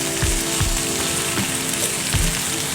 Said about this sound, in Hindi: प्याज के साथ मेरे आलू भी फ्राई हो रहे हैं